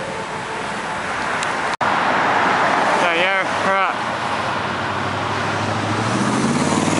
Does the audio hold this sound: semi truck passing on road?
yes